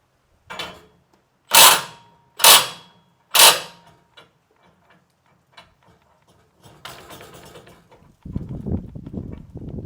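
Cordless impact wrench hammering at a stuck, freezer-chilled bolt: three loud, sharp bursts about a second apart, then a few faint taps and a longer lower rumble toward the end.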